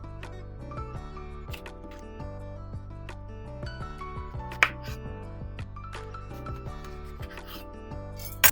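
Lemons rolled by hand across a kitchen counter before juicing, making soft continuous rubbing and rasping sounds in repeated strokes, with a couple of sharp knocks, close and fairly quiet, no talk.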